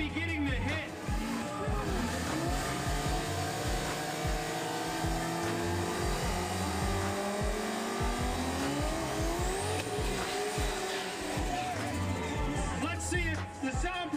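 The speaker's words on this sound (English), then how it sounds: "Rex is going to try to hold up against the Supra, as known as Broke Supra" At a street drag race, a Toyota Supra and a Mustang launch and scream down the strip. Loud revving engines, tire squeal and gear-shift roars build and fade, with a commentator talking over the racket.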